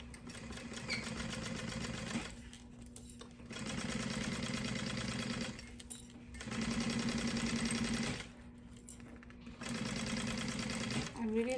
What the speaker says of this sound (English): you're going to stitch from that marking